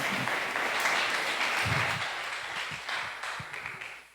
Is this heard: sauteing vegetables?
no